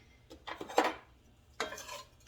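Cumin seeds stirred in ghee in a pan with a spatula, giving a few short bursts of scraping and light clinking against the metal, separated by quiet gaps.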